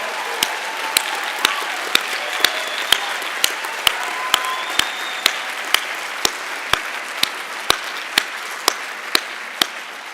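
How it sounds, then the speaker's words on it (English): Graduates and guests applaud family and friends at a spring university environmental school commencement, continuous crowd clapping punctuated by sharp, regular percussive knocks roughly every half second. "Give them a round of applause."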